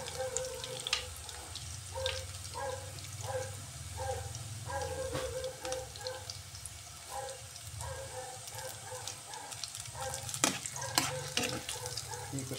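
Bamboo shoots, parboiled beforehand, stirred and sizzling in a frying pan while cooking for adobo or atchara, with a steady frying hiss and repeated soft scraping strokes, fairly quiet and close, with no talk.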